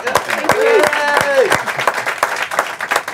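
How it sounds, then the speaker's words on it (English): Short burst of audience applause at a live podcast recording, sharp claps near the start with a voice cheering over them, then tapering into scattered clapping. "let's give them a round of applause real quick"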